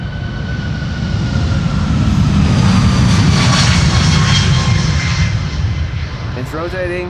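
An airliner takes off on runway 36L, the Polderbaan, at Amsterdam Schiphol on a windy day. Its loud, close jet roar swells to a peak and holds, and a voice cuts in briefly near the end.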